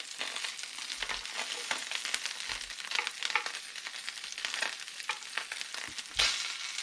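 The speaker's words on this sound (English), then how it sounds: "Okay, so into the pan they go." Floured ormers frying in a pan with bacon: a quiet, continuous crackling sizzle with small pops, heard alone and fairly close.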